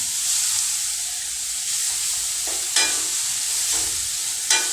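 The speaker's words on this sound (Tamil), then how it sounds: "இப்போ நம்ம அதே நெய்யிலேயே நம்ம கேரட்டு துருவி வச்ச கேரட்டை வறுத்துக்கலாம்" Grated carrot frying in ghee gives a steady, close hiss that runs throughout, with a few soft scrapes of stirring on top; no one speaks.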